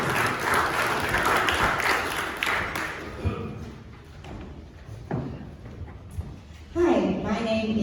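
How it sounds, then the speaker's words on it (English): Audience applause at a December 2019 startup pitch event, a dense wash of clapping for the first three seconds that quickly thins out, followed by scattered thuds and then a voice beginning to speak near the end. "please give a big round of applause and welcome Maggie"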